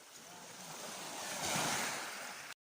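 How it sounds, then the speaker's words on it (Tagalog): Ocean waves at Cape Engaño on Palaui Island surging and washing in a steady broad roar that swells midway, then cuts off abruptly; no voices. "habang palakas yung alon"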